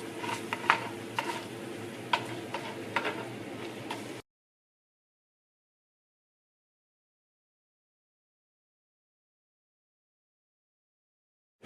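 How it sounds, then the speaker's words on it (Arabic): Garlic sizzles in oil in a clay tagine, giving a steady close crackle with a few sharper pops for about four seconds before the sound cuts to silence. "الحين اللي أسويه ببدأ أوزع الثوم، أحاول أوزع الزيت"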